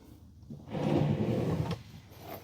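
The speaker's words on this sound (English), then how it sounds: "You got a little push button there, and then you just pull right on out." A push-button drawer in a 2019 Sprinter 3500XD conversion van slides open with a smooth sustained rumble lasting about a second, followed by a faint click at the end.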